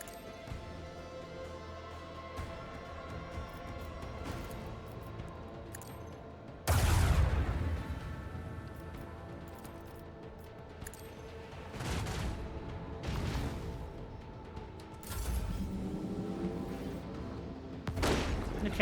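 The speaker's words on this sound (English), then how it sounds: "Some more torpedoes." Torpedoes explode in the video game Rogue Trader: a loud, heavy boom hits suddenly, and several further blasts follow at intervals over a constant low rumble of game noise.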